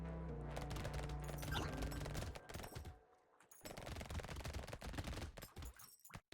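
Rapid SMG fire from the Brotato game, a dense continuous rattle of shots with brief breaks, mixed with game noise at moderate level.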